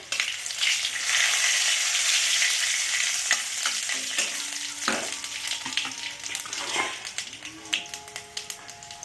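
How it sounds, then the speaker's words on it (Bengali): Panch phoron and bay leaf spluttering in hot oil, a bright crackling sizzle that is loud at first and eases off, with scattered pops, a few utensil taps and faint background tones, no speech. "দু চামচ মতো তেল দেবো দিয়ে আমি পাঁচ ফোড়ন আর তেজপাতাটা দিয়ে দেবো এটা যখন ফুটে যাবে"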